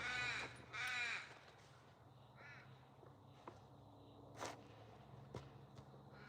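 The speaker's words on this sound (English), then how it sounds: "can you still hear the birds in the background" Loud harsh crow caws twice up front, then sparse faint bird calls and a few sharp taps in a quiet outdoor background.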